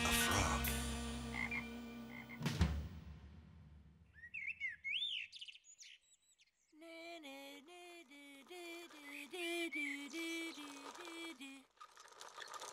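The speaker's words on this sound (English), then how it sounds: "Now that's a frog." A cartoon frog croaks in a children's animated show, a run of rhythmic, evenly spaced croaks with chirpy calls, following music and a loud crash at the start.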